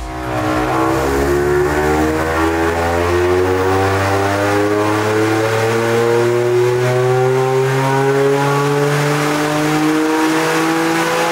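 A Toyota GR Yaris held at full throttle on the Mandalika international race circuit, the engine note loud and close as it climbs steadily in pitch through a long sustained pull with no voices over it.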